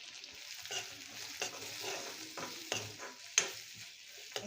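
Ginger garlic paste, onion and green chili fry with turmeric, salt, red chili powder and garam masala in a pan, a soft crackling sizzle punctuated by scattered spatula knocks and scrapes.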